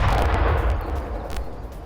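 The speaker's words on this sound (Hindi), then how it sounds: "एक के बाद एक धमाके यहां पर किए गए हैं।" Explosions and gunfire during an attack in war news footage, a loud dense rumbling roar with booming low end lasting throughout, a few sharper bursts rising above it.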